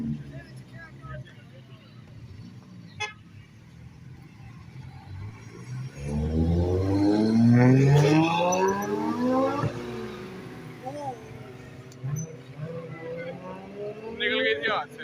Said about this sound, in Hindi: इस बिग कार की आवाज़ चेक करते हैं